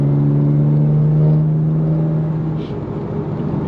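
A BMW M4 with a titanium exhaust pulls in sixth gear at low RPM, giving a loud, steady droning engine hum with a strong low tone that swells slightly, then eases.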